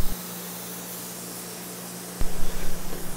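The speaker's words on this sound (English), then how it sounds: "this is the same spray gun that I've been using throughout this entire project" A spray gun lays down automotive paint on an old rusted Chevy K10 truck, giving a steady broadband hiss that runs throughout and grows louder and rougher near the end, with no talking.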